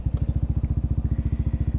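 A 2018 Yamaha Xmax 250 scooter engine runs close by just after being started, with a steady, fast, even thumping idle and no talk.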